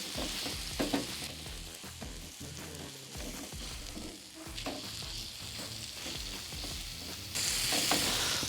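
Masala sizzles and fries in a pan at a resort kitchen, a steady close crackle broken by repeated scraping and stirring strokes, growing brighter and louder near the end.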